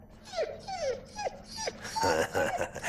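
A dog whimpers and whines in a run of high, falling yelps, close and fairly loud, with several short cries in quick succession, in a Puss in Boots fairy-tale setting where a man becomes a stray dog.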